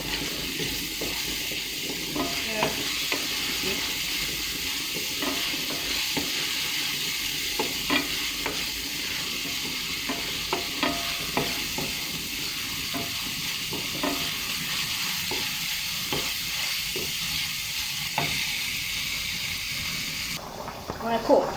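Steady, continuous sizzling of onions frying in a pan, with occasional stirring clicks and scrapes throughout and no voices.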